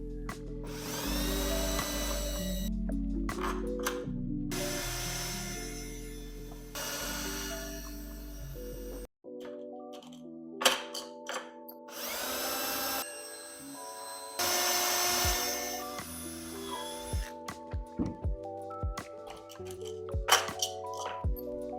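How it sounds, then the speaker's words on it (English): Power drill whirring in bursts, winding up and down in pitch as it bores holes into a wooden skateboard deck, with short pauses and clicks between holes. "keep that in place as I'm drilling the rest of the holes"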